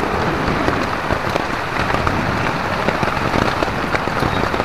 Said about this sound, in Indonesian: Hujan besar kawan